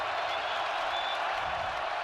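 Football stadium crowd at an FCS semifinal, North Dakota State versus James Madison, roaring steadily as a dense, continuous wash of noise that stays loud and sustained without breaks.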